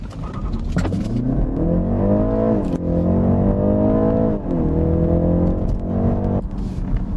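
A BMW 330e plug-in hybrid accelerates hard from a standstill with extra boost engaged, its engine note climbing steadily through the gears, with brief dips at the shifts, loud and close from inside the cabin with no talk.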